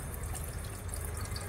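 Water draining from an open pipe on the engine of a flood-damaged Hyundai Xcent car makes a steady, continuous splashing gush, loud and close, with no voices.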